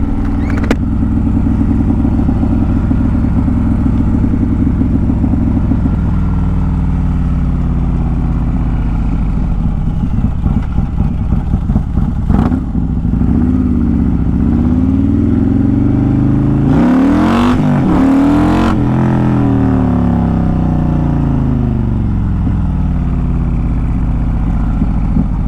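A built Harley CVO motorcycle engine roars loudly and close, revving hard through repeated accelerations as the rider pulls wheelies, with a rising and falling engine note, brief gear-change dips and a sharp surge near the end.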